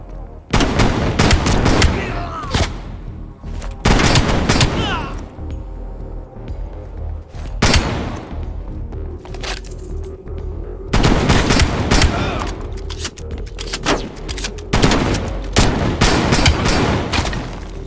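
Gunfire in the video game Call of Duty Black Ops Cold War, loud close shotgun and rapid weapon bursts in several clusters, separated by short lulls with quieter ambience.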